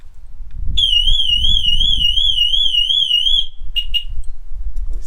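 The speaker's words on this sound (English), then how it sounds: "alarm works" A car alarm in a rare British muscle car, a barn find, shrills close and loud in a rapidly warbling electronic tone for about three seconds, then chirps twice more over a steady low engine-bay rumble.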